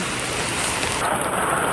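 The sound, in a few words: heavy rain falling at Taiwan night market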